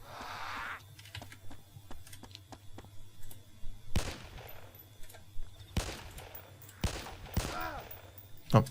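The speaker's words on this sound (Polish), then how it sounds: "Tylko najpierw odstrzelmy tego koleżkę" Gunshots in the video game DayZ ring out as several sharp, loud cracks spaced a second or two apart, with a player talking and clicking a keyboard between shots.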